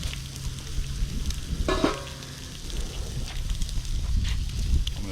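Steak sears on a Weber grill with a constant close sizzle and crackle, a brief clank of metal partway through.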